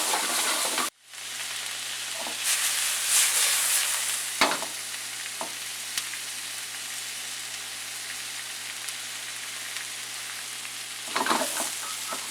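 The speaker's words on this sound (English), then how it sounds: "we're going to stir fry this for about 2 minutes" Onions and corn stir-fry in a hot pan, a steady loud sizzle with occasional scraping stirs and clanks, continuous and close, no voices.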